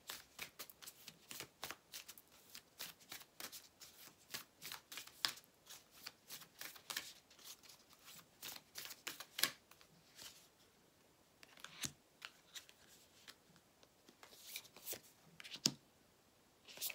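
Tarot cards being shuffled and drawn by hand, giving a long run of quick, crisp papery riffles and flicks, close and fairly quiet, with brief pauses between bursts.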